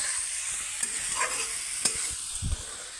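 Chicken pieces fry in oil in a pot for an Indian chicken curry, a low steady sizzle with occasional stirring knocks and scrapes close by, no voices.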